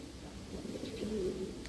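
Iranian pigeons coo softly inside a loft, a few low rolling calls rising and falling over a quiet, steady background with no talking.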